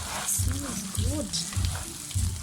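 Vegetable fried rice sizzles in a pan while being stirred, a steady frying hiss with periodic scraping strokes, and a voice murmurs faintly underneath.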